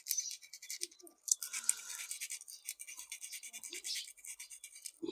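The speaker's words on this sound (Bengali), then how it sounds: "প্রত্যেকটা ব্যাটারি ঘষতে হবে।" Ends of lithium battery cells are scrubbed before soldering, producing soft rapid back-and-forth scratching strokes, close and fairly quiet, with brief murmured speech in the background.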